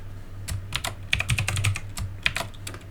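Quick, uneven keystrokes on a computer keyboard patter close by in short bursts, with no one speaking.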